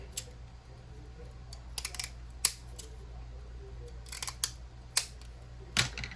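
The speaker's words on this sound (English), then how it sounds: "These scissors are not the absolute best." Scissors snipping through paper for a junk journal, a series of sharp, crisp cuts in irregular bursts at close range, heard alone over a low steady background hum.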